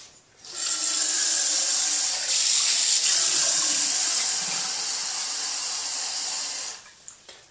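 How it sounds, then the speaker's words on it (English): Steady rush of tap water pouring into a GSI kettle, about two cups, loud and close, running continuously for several seconds before cutting off. "Filled up with about 2 cups of water from the tap."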